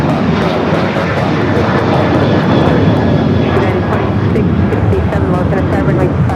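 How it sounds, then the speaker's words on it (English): Alaska Airlines Boeing 737-800 taking off at LAX, a steady, loud, broadband jet engine roar that holds throughout without a break. "This takeoff is Alaska Airlines 1418 taking off to Guadalajara on the 737-800"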